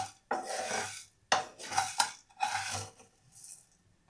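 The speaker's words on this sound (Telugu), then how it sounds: "ఇప్పుడు స్టవ్ ఆన్ చేసి వీటిని దోరగా వేయించుకుంటున్నాను" Mustard seeds, fenugreek seeds and peppercorns are dry-roasted in a pan. A utensil scrapes and stirs them in several separate bursts, and the seeds rattle against the metal, close by with short pauses between strokes.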